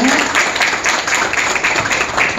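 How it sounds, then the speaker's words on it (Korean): Audience applause at an award and inauguration ceremony in a convention wedding hall, a steady, loud crowd clapping throughout with a voice briefly heard underneath. "박수 부탁드립니다"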